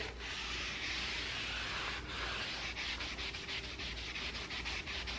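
Steady rubbing of furniture wax into vintage wood with a white lint-free t-shirt, a continuous close-up swishing with faint rhythmic strokes and no voices.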